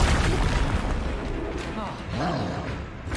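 The Descendo spell from Hogwarts Legacy slams down as a low, booming impact with a brief rumbling tail, sitting among other game effects.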